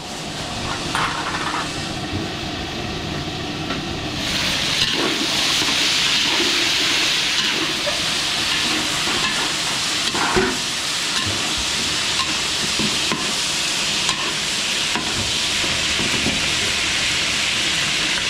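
Chicken fritada simmering in a pot gives a steady hiss and bubbling sizzle that swells louder after a few seconds and holds, with small clinks now and then and no talking.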